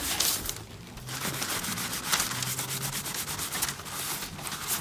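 A napkin wipes excess finish off a handcrafted leather quick-draw knife sheath, giving continuous close rubbing and scrubbing strokes with brief rustles, loud and without talk.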